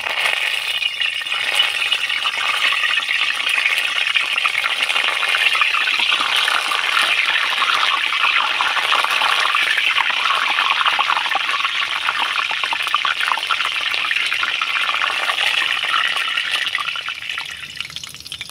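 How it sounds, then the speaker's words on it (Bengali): Curry leaves fry in hot oil with a steady, bright sizzle and crackle that holds evenly close by for the whole stretch, with no talking. "ওই তেলের মধ্যে আমি কিছুটা পরিমাণে কারি পাতা নিয়েছি, ভেজে নেব।"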